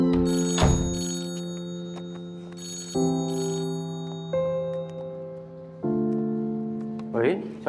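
A telephone rings indoors with a loud, close melodic ringtone of sustained stepped tones, and a brief voice is heard near the end.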